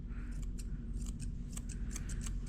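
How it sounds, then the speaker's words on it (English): Scissors snip repeatedly at close range trimming a dog's coat, quick irregular cuts over a low steady hum. "I'm gonna use hand scissoring to do this girl"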